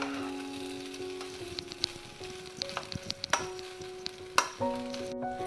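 Chicken fried rice frying over a high flame, a steady close sizzle with scattered sharp clinks and scrapes of a spatula tossing the rice, no voices.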